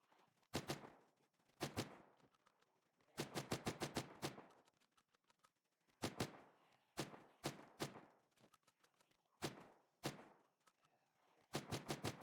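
A SPAS-12 shotgun fires in the zombie survival video game Project Zomboid, with sharp close blasts coming singly and in quick bursts of three to five, separated by short pauses, across the whole stretch.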